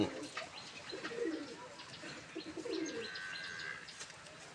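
A pigeon coos softly and flutters its wings now and then while being handled. The sound is faint and low, with scattered rustles and chirps and no clear speech.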